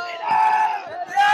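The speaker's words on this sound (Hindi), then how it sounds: "अमित शाह जी का काफिले में भीड़ देखते हुए और जनता का सैलाब देखते हुए" A large crowd gathers around a political leader's convoy during Uttar Pradesh election campaigning, giving a continuous loud roar of yelling and shouting voices with a few sustained cries rising above it, close by.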